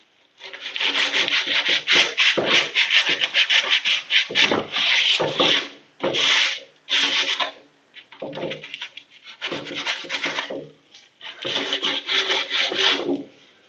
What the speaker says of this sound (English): So on with the sandpaper.